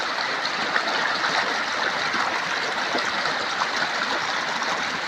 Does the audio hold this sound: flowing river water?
yes